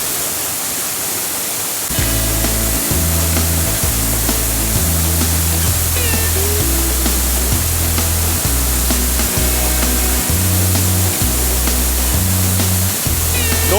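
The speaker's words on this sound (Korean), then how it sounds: "와 신부산 아래서 폭포 너무 좋네요" Paraeso Falls below Sinbulsan mountain in Ulsan thunders in a constant loud rush of falling water, with a steady beat of background music layered over it.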